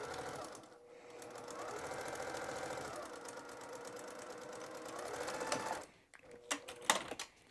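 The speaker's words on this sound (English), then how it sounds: "I'm just basically what we call top stitching" A sewing machine top stitches fabric with white thread in a rapid, even mechanical rattle for about five seconds, close and clear, then stops and starts again in short bursts.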